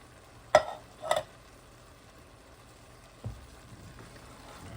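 Kidney beans stirred gently in a pan for a wet burrito, giving two soft scraping swishes close together early on and a faint later scrape over a low background hum.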